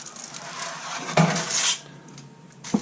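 A deepish metal oven pan with a trivet balanced on it is handled up close, producing scraping metallic rattles, one sharp clatter and a final knock.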